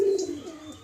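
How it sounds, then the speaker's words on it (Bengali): Pigeons coo from cages at a pigeon seller's stall in Kolkata, with a brief close, soft cooing call at the start followed by lighter chirps and cage ambience. "দুটো খাঁচায় পায়রা আছে"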